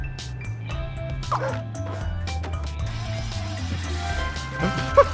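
A dog barks and yips repeatedly in Scribblenauts Unlimited, close and loud over a steady low game-music drone, with a short whimper among the barks.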